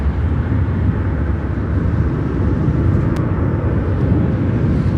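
An Emirates Boeing 777-300 landing at O'Hare, heard as a steady, loud, broadband jet roar that holds throughout with no voices.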